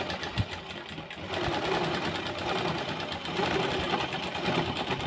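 A sewing machine runs steadily, joining two churidar pieces together, with a brief pause near the start before the motor hums on continuously at close range.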